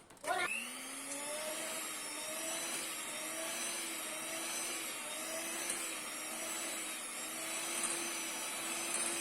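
A spiral mixer kneads a 58% hydration donut dough with a steady, close motor drone and a faint rhythmic churn that carries on without a break.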